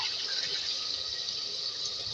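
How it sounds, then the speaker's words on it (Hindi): A glass of water pours into a pot of beef and potato curry, giving a short continuous splashing gush that holds steady at close range. "1 गिलास पानी डालेंगे"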